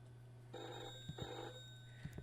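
In the Martha video game, a telephone rings faintly in a quiet scene, a steady electronic tone over a low hum with a couple of soft clicks, no voices.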